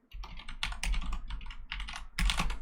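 Rapid keystrokes clatter on a computer keyboard, close and fairly loud, in uneven bursts with brief pauses between runs of typing.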